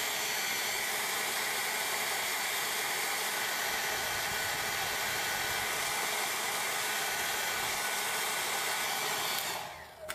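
A hot air tool blows steadily onto an Acorn Archimedes A3010 circuit board under repair for a heat-related boot fault, a loud continuous hiss and whoosh that cuts off abruptly at the very end.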